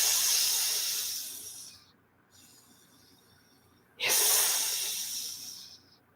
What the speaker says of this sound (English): something like a snake or like a cat hissing